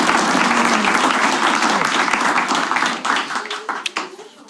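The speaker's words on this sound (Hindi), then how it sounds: "एक बार ताली बजाओ आशीष सोलंकी के लिए यार." A live comedy-show audience claps for Ashish Solanki, loud dense applause that thins out and breaks into scattered separate claps toward the end.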